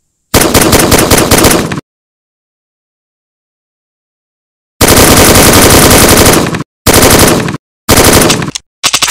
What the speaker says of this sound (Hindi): अब हम देखेंगे अग, इसका आवाज़ सुन कितना मस्त है